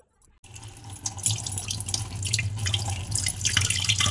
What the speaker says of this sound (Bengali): তো চলো আগে আমি সবজিগুলো ভালো করে ধুয়ে নিই।